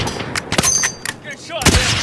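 Gunfire in Warzone's Quads mode rings out in several sharp, loud shots spread unevenly, with a last close burst near the end and a bit of game noise in between.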